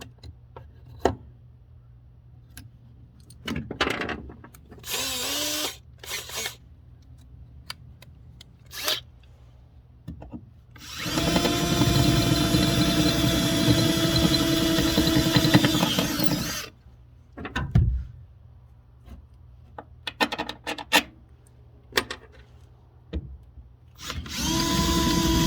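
A power drill whines loudly through a pickup truck's metal body in one sustained run of several seconds, framed by clicks, knocks and handling noises before and after.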